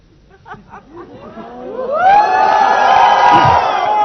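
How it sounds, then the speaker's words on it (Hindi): An audience bursts into cheering and whoops after a dance move, swelling from scattered shouts into a loud, sustained crowd roar. "एक मूव पे तालियां है, कमाल"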